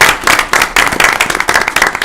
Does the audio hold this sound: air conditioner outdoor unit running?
no